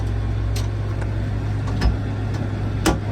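A 9030 bale wagon with a three-range hydrostatic transmission runs steadily nearby, a continuous low engine drone with a few faint clunks over it.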